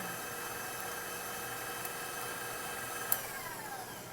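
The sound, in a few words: stand mixer paddle beating butter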